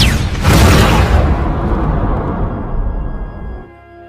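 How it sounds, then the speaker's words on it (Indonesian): An explosion in an action film hits with a sudden heavy boom, then its rumbling roar slowly decays over several seconds before cutting off. "Mereka berdua pun meledak bersamaan."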